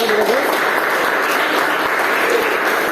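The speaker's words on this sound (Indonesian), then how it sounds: "Silakan tepuk tangan." Loud, continuous applause fills a classroom for about three seconds, a dense steady patter of many hands clapping at once with no pause and no break in level.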